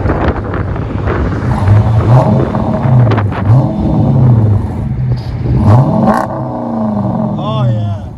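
Dodge Challenger R/T with a 5.7L HEMI V8 and Flowmaster FX mufflers revs loudly and close by in repeated throttle blips, the deep exhaust burble rising and falling, with voices talking over it.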